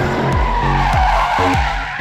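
Tires squeal loudly and continuously as a sports car drifts on a race track, the engine roaring close by, its revs jumping up and down in repeated surges under the skid.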